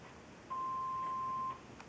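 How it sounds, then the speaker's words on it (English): A single electronic phone tone holds steady for about a second, fairly quiet, in an otherwise calm indoor room. "Why does the phone ring?"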